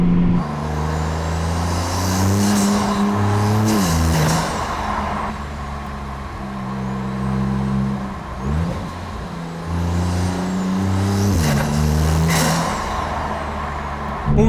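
A Maserati MC20 driving on a slippery road, heard through a partly open window: a loud, steady engine drone with two rising rev sweeps, gear-change dips between them and constant road and wind noise.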